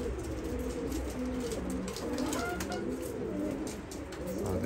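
A young Arab pigeon of two to three months coos softly and repeatedly inside a coop, low rolling calls over a steady background hum.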